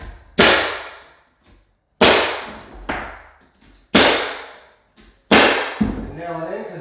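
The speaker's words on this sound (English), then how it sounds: "Now I'm gonna switch back to the 2-inch finish gun." A 2-inch pneumatic finish nail gun drives nails into door casing, four sharp loud cracks about two seconds apart, each followed by a short decaying clatter, with a softer knock between them.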